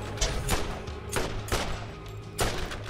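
Gunfire in the video game Borderlands rings out as a series of separate, evenly spaced single shots, each loud and sharp with a short tail, over low background game noise.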